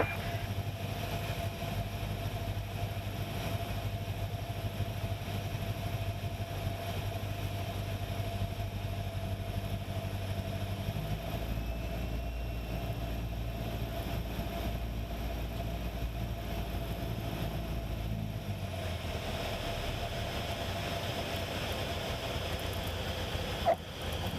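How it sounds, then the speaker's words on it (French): A light aircraft engine runs at a steady, low drone while the plane taxis back up the runway at Aubenas airfield before taking off again. The engine note shifts slightly partway through, with no voices. "je remonte la piste et redécolle pour le dernier segment jusqu'à Aix"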